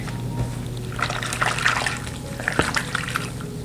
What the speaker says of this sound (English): Then I can use this water, which is a little dirty, to clean my rusty metal.